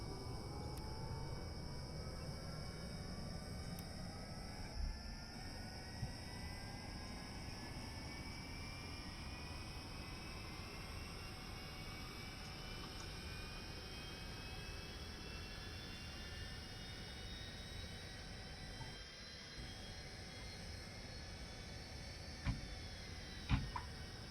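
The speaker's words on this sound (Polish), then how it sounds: "Pierwszy silnik włączony." A-10 jet engine spooling up in the Blackhawk Rescue Mission 5 video game, a steady whine rising slowly in pitch over a constant roar, faint and continuous, with a few small clicks near the end.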